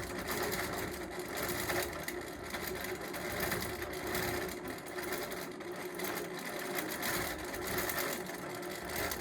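A longarm quilting machine runs steadily, zigzag stitching a label onto a quilt, giving a continuous mechanical whirr with a fine rhythmic clatter throughout and no talking.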